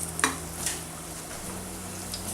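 Smashed plantain for jibaritos fries in a fryer with a steady, even sizzle, a couple of light knocks early on, and no talking.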